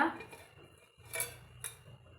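A kadai pan set down on a stovetop gives two short metallic clanks in a quiet kitchen, close by, with only low background hum between them.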